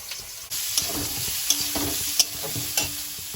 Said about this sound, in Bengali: সয়াবিনটা একটু ভেজে নেব সয়াবিনটা দিয়ে দিচ্ছি